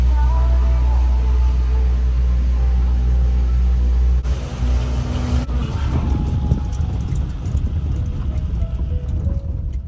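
A snow machine, its wheels fitted with anti-slip gear, cutting through ice and rock high on Mount Titlis in Switzerland: a loud steady engine rumble with wind, shifting to rougher grinding texture partway through.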